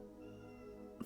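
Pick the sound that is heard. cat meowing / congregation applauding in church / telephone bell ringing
cat meowing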